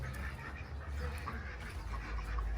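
Runner ducks quack softly at a distance over a steady outdoor rumble, with faint scattered calls throughout.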